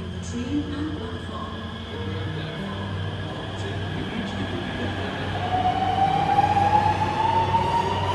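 An Indian RRTS rapid train pulling out of the station, a loud steady rumble with a rising electric motor whine that climbs in pitch as it accelerates.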